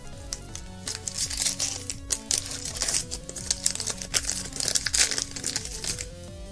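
A Pokémon Breakthrough booster pack being torn open and its foil wrapper crinkled, giving a close, steady run of crisp crackling and ripping bursts with no one talking.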